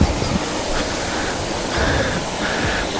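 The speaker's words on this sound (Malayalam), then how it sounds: "ഇവിടെ വെള്ളച്ചാട്ടം കാര്യങ്ങളൊക്കെ ഉണ്ട്." A waterfall at Vattavada in Idukki, Kerala rushes as a dense, continuous roar of broadband noise, loud and steady throughout with no speech.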